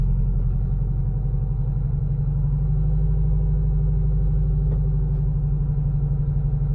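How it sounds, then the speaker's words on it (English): Detroit Diesel 8V71TA engine in a 1977 MCI MC8 bus rumbling steadily at close range, with a low, continuous diesel drone and slight throttle swell before settling back to idle. "Give it a little bit of throttle and then let off. Make sure it comes back to idle."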